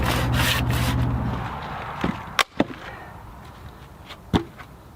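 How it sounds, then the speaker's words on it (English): A hand saw working through wood while shaping a large spatula, with rasping strokes at first that give way to a few sharp knocks and clicks as the piece is cut free, heard close and with no talking. "Once I got down far enough, I just cut in from the side to separate the piece."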